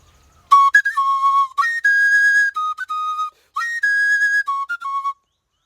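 Ọjà, a Yoruba flute, blown in short and longer sustained notes, bright and whistle-like, stepping between a few pitches with brief pauses between phrases, close and alone.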